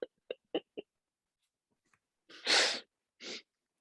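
A short series of quick sharp breaths leads into one loud, forceful sneeze, followed by a softer second burst, close up in a quiet room.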